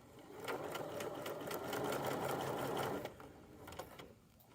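Sewing machine running steadily as it stitches along the edge of a hoodie pocket, a close, continuous motor whir for about three seconds that slows and fades near the end with a brief restart.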